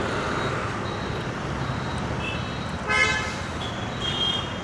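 Vehicle horns honking on a busy road in Goa, several short toots and overlapping beeps cutting through a constant rumble of traffic.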